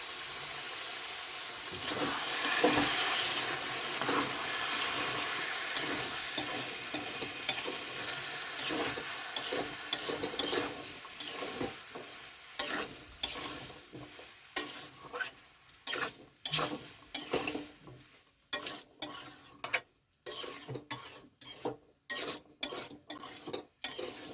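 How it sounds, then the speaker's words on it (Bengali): Chana paneer masala sizzling in a pan with a splash of water, a steady hiss at first giving way to repeated scraping and clanking of a spatula stirring against the metal, no speech. "আবারও একবার ভালো করে নাড়িয়ে চাড়িয়ে কষিয়ে নেব।"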